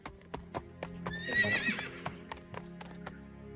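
Horses pulling a carriage, with crisp, evenly spaced hoofbeats clip-clopping and a loud neigh rising in the middle, over a quiet sustained background tone.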